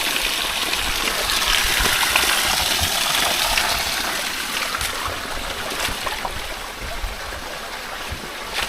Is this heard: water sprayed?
yes